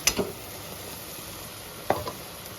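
Maggi noodles being tipped into a pan of already-fried broccoli and egg, with two sharp clattering stirs of a spatula over a soft, steady sizzle, otherwise fairly quiet.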